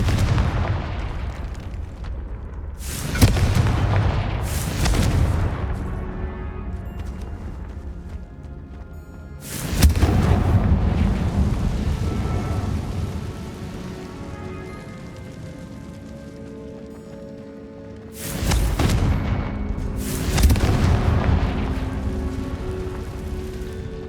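Confringo blasting spells explode in the Hogwarts Legacy video game: several loud, booming blasts land at irregular intervals, each with a sharp broadband burst that rumbles off over a steady background score.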